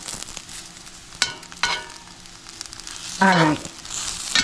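Vegan meat and shishito peppers fry in a pan with a soft continuous sizzle, broken by a few sharp clatters and a short burst of stirring, while a voice briefly speaks.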